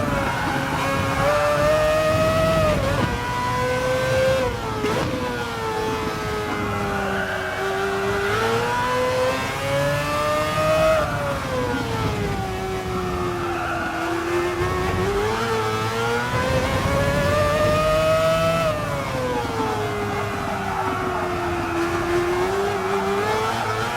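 Mazda 787 race car at full throttle in a racing game on the Fuji short circuit, a loud continuous high-pitched rotary engine wail rising and falling through gear changes.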